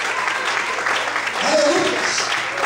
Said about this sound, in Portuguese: Quantos podem aplaudir e exaltar o Senhor nesta noite?